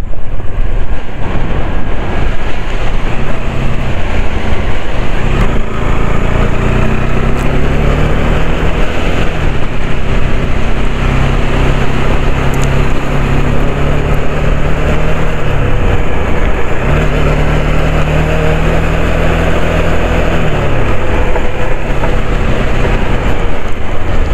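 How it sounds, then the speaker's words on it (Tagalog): Strong mountain wind buffets a moving motorcycle on the Abra to Kalinga road, a loud, constant low roar filling the whole stretch, with the engine's tone rising and falling in pitch underneath. "gumigewang yung motor ko dahil malakas ang hangin"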